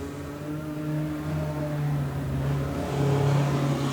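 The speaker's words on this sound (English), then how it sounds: "thankfully, Tammy's car's come to life, so she can join the pack for tonight's feature race" Speedcar engine idling and revving at an Australian speedway race meeting, a steady loud mechanical hum with slowly rising and falling pitch, close by and heard alone.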